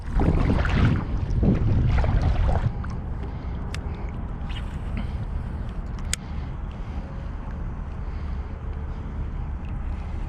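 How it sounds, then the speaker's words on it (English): Wind buffets the microphone over a small lake during springtime kayak bass fishing, a heavy low rumble that gusts loudly for the first few seconds then settles into a steady, softer roar with faint clicks. "The wind still has not died down."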